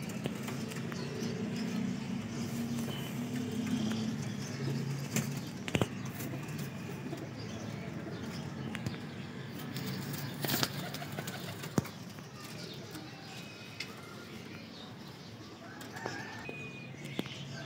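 Baby Highflyer pigeons in a loft coo softly at low volume, with occasional flutters and light scrapes and knocks against a dull room background.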